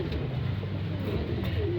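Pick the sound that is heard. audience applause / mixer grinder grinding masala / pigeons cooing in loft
pigeons cooing in loft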